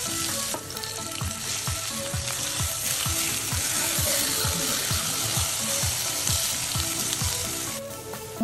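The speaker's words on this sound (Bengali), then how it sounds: "চুলার আগুনটা মিডিয়ামে রেখে আমি সিদ্ধ করে ভেজে নিব" Tomato, eggplant and garlic cloves fry in a pan over a medium flame, a steady loud sizzle with bubbling and occasional clinks of stirring throughout, no voices.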